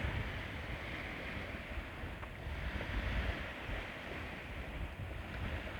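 Waves wash onto a beach on Canna Island, Scotland: a continuous rushing surf mixed with wind buffeting, with no voices.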